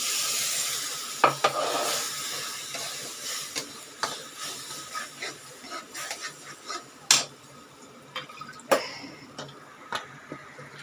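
Water poured into potato masala cooking in a pan, with a hiss and sizzle that fades into bubbling and intermittent clinks of stirring, close and clear.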